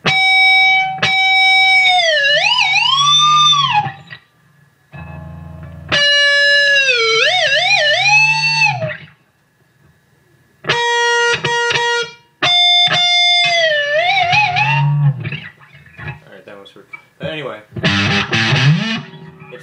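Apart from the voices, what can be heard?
electric guitar dive bomb with distortion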